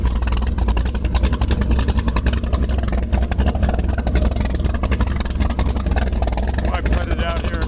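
A 1975 Schiada 22-foot V-drive ski boat idles on the water in a bay, its lumpy cammed engine giving a steady, loud, continuous low rumble throughout, with a voice talking over it.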